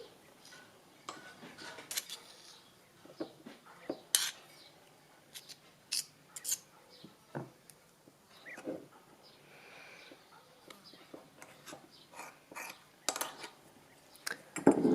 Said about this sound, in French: On va mettre une cuillère à soupe de beurre de karité.